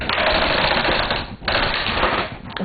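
Knitting machine carriage drawn across the needle bed to knit a full row of stitches on an e-wrap cast-on, a loud continuous mechanical clattering whir with a brief pause in the middle, close up and without talk.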